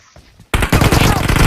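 Gunfire in a shooter video game, a sudden loud burst of rapid automatic shots after a quiet moment, continuing dense and close to the end.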